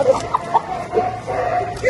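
A young rooster from a poultry farm clucks in short, scattered bursts close by, with other bird calls and a voice talking underneath throughout.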